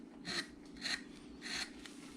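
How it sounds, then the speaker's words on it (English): A carving gouge cuts into a wood Santa carving made from a bandsaw blank, giving three quiet, rasping strokes close by, each about a third of a second long and evenly spaced, with no talk. "this is how I shape my carvings, is with a gouge like this"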